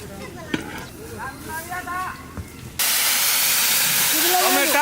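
Tomato puree for a katla fish tomato-mustard curry, in a pan tempered with dried chilli and black cumin, suddenly breaks into a loud, continuous sizzling hiss after some talk, with a voice still heard over it.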